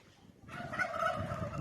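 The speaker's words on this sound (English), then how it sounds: "this is one of my turkeys" A turkey makes a soft, warbling call, faint and close, rising suddenly out of near silence and continuing briefly.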